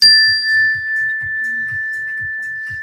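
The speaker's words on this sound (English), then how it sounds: "we take a slow, deep breath when you hear the mindfulness bell" A mindfulness bell is struck once and rings with a long, steady sustained tone that hangs over the whole stretch, while faint low taps and murmurs sit quietly beneath it.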